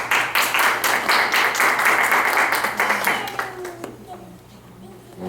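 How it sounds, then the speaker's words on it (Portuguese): An audience at an evangelical gathering gives a round of applause, brisk and loud at first, then thinning out and fading over the last seconds as a voice starts to speak. "Uma salva de palmas."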